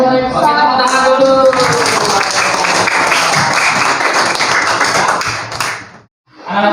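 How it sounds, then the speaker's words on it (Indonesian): A classroom of children claps together in a loud, dense burst that tapers off and stops abruptly near the end, following a brief moment of voices at the start. "Oke, tepuk tangan dulu."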